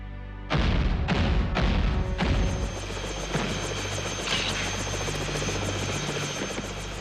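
A cartoon rescue helicopter's rotors start with a few heavy thumps, then settle into a loud, steady, rapid chopping whir.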